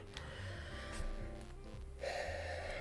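A voice imitates a man gasping for breath during a Call of Cthulhu tabletop session, with a few short, breathy gasps over a steady low background.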